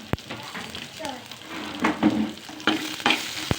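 Chopped onion frying in a pan with ginger and cumin as it is stirred, steady sizzle under repeated scraping and clinking stir strokes, close by.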